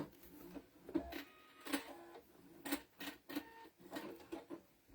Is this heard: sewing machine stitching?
yes